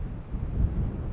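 Strong gusty wind buffets a Sennheiser MKE 200 microphone fitted with a wind muff outdoors, giving a continuous, loud low rumble that swells and dips through the short stretch.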